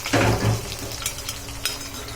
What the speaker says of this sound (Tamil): இந்த பூண்டு ஒரு 5-6 பல்லு, ஒரு பெரிய துண்டு இஞ்சி, இதை நல்லா போட்டுட்டு நல்லா வதக்கணும்.